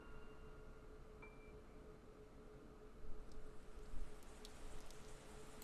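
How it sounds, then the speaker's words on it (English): Rain from a visual novel game plays as a steady, even hiss of falling rain, soft and continuous, with a few faint brighter drops near the end. "Oh man, it's raining."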